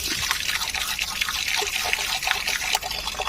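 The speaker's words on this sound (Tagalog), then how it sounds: "Pinaparinig natin yung agos ng tubig." Water trickles and drips steadily into a turtle pool, a close, continuous splashing flow with scattered sharper drips throughout.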